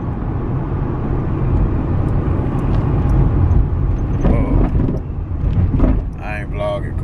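An Infiniti truck on the road, heard as a continuous low engine and road rumble with some wind buffeting. A few faint higher sounds come in toward the end.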